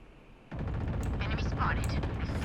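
Gunfire in the shooter Valorant erupts after a brief quiet, a dense burst of loud shots and impacts, with a sweeping whoosh midway.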